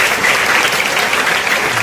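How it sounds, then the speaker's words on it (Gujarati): Loud, steady applause from an audience at a school welcome ceremony honouring gold medal winners, dense clapping sustained without a break. "આપણે જોરદાર તાળીથી ત્યાં સુધી વધારતા રહીએ"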